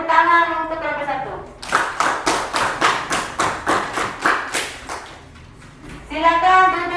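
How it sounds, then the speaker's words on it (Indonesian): A classroom claps for a student group after their presentation, a short burst of about ten rhythmic claps between stretches of a teacher speaking. "Tepuk tangan untuk kelompok 1."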